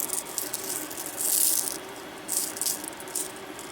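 Seamless glass beads rattling together in short bursts, a bright, close clatter that comes and goes in two or three shakes with brief quiet between.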